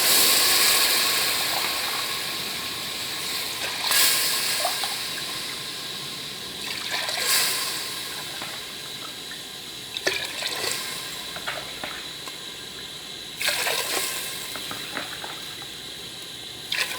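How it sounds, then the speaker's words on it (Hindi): Water poured into a cooking pot for chana pulao, a steady splashing, trickling pour with a few louder surges, close and alone with no talk. "अब हम इसमें 6 पाव पानी डालेंगे।"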